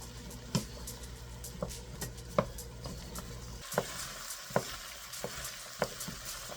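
Butternut squash and onions cook in a pot with a soft, steady sizzle as a spoon stirs, tapping and scraping the pot sharply every second or so, each knock standing out clearly above the frying hiss.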